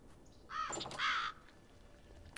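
Crow cawing at its nest in the adventure game Black Mirror 2, two harsh, rasping caws in quick succession over a quiet background, with no talking.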